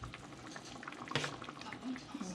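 Meat spaghetti sauce of tomatoes, onions, basil and oregano simmering and thickening in a pot, soft bubbling and popping with a brief louder splat, under a person talking nearby.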